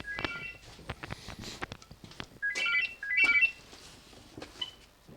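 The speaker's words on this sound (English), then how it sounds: "There's somebody on the phone." A telephone rings in a woodturning workshop: two short electronic ring bursts, fairly close and clear, with workshop movement and light thumps around them.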